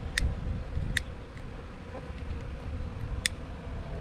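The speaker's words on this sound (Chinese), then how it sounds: "现在满天飞舞的蜜蜂啊" Wild honeybees swarming in the open after being smoked out of a deep hive cavity, a soft buzzing drone under strong gusting wind, with a few sharp clicks near the start and toward the end.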